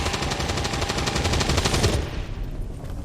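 Rapid automatic weapon fire from XCOM 2, a dense stream of loud shots for about two seconds before it stops and leaves a quieter tail of background noise.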